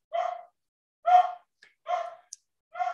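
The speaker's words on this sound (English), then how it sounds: "Sadie is barking her little head off in the breezeway" A small dog barks four times in a breezeway, evenly spaced sharp barks at moderate distance with quiet gaps between them and no talking.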